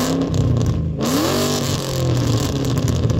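A Ford Coyote V8 engine revs loudly up close, rising in pitch through a throttle blip before settling into a deep, rumbling growl.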